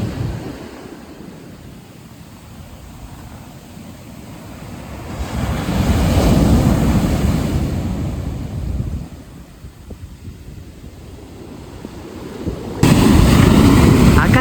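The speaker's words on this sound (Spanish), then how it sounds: "Atrás como que no hay ola y acá se forman unas olas." Ocean surf at Tacuaras beach in Brazil: broad roaring wave noise rising and falling as waves break, swelling loud around six seconds and again at the end, with steady wind rumble across the microphone throughout.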